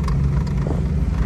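A 1996 Ford Mustang GT convertible idling as it is shifted into drive, a low steady engine rumble close by.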